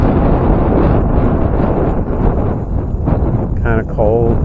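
Strong wind buffets the microphone beside a lake while out bass fishing, a loud continuous roar with heavy low rumble throughout, and someone speaks briefly near the end.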